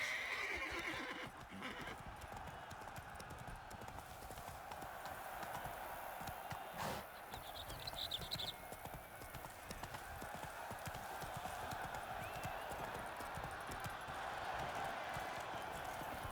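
Roach, Geralt's horse in The Witcher 3: Blood and Wine, trots with steady rhythmic clip-clop hooves and lets out a whinny, fairly quiet and continuous over ambient game sound.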